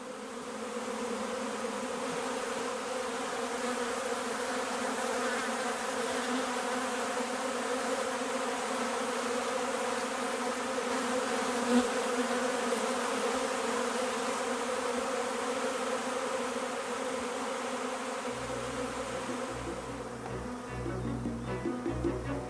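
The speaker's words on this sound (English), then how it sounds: "The swarm, with the queen in its midst, rises from the box and continues its journey" A swarm of honeybees takes off from a box together with the queen, making a dense, continuous buzzing hum that stays even and fairly close throughout.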